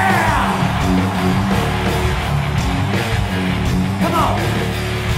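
A huge crowd of about 250,000 people at a 1999 Woodstock concert roars and screams in a dense, loud, continuous wall of sound with no pauses, yells rising above the mass.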